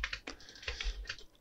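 Close, quick typing on a computer keyboard while coding, with a dozen or so crisp key clicks in an uneven rhythm and no voice over them.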